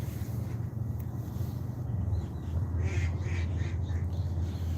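Birds, apparently ducks, quacking and calling near a stream-side fishing spot, a few scattered calls heard fairly faintly over a constant low outdoor rumble.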